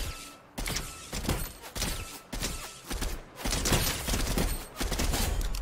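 Fortnite gunfire, with rapid repeated shots and bursts snapping loudly in clusters across the clip, some sustained volleys, while players talk over the action.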